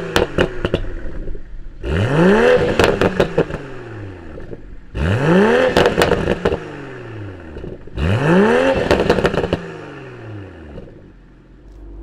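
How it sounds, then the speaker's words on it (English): A 2020 BMW Z4 M40i sports car engine starts up and revs hard three times, each rising snarl falling back to a rumbling idle between bursts, loud and close. "why don't we go ahead and fire this up and see what the Z4 sounds like."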